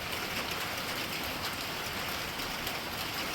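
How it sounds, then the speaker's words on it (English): Steady rain falls through the night during a storm, a dense, even hiss of drops on surfaces that stays constant and fairly loud throughout, with no voices. "It's raining here. It's been raining all night"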